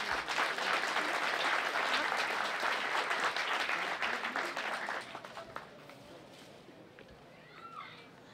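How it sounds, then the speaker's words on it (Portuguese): Audience applause for philharmonic band members at an outdoor bandstand anniversary event, a loud sustained round of clapping with children's voices that fades out after about five seconds, leaving quiet crowd murmur. "Para eles, uma salva de palmas, por favor."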